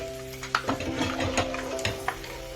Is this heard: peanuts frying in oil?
yes